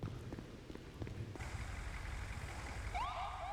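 An ambulance siren wails with rising and falling sweeps near the end, over a low engine rumble and traffic noise.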